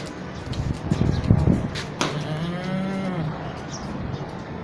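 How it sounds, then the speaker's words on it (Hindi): A goat calls out at a livestock market, one drawn-out, wavering bleat following a burst of rustling and handling noise nearby, loud and close with no talk. "देख रहे हैं बकरी।"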